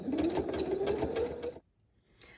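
A sewing machine stitches a zigzag seam, a close whirring hum with rapid needle chatter and a slightly rising pitch for about a second and a half, then stops, followed by a brief click.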